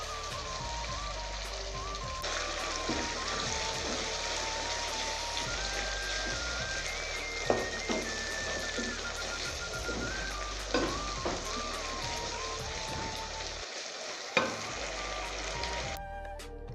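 Mustard greens sizzle and fry steadily in a pan of fried garlic and chillies for a Punjabi sarson ka saag, a continuous close hiss with occasional soft pops and stirring clatter, no talking.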